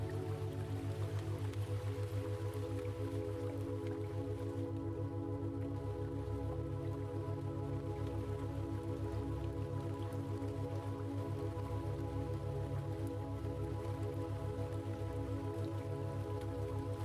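Rain falling on a stream outdoors, a soft continuous patter and trickle at low level, steady for the whole stretch with no talking over it.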